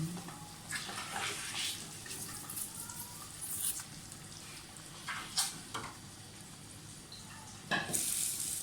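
Eggs frying and being stirred in a pan for a Pakistani-style egg curry, a steady close sizzle with spoon scrapes and bursts of louder crackling throughout.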